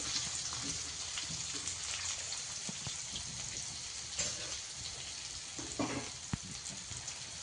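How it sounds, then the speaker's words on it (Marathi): Onion frying in hot oil for egg bhurji gives a dense, rain-like crackle, fairly faint and steady, with a few sharper pops and clicks toward the end. "आपलं तेल आपल्याला आहे कांदा त्याच्यात टाकू"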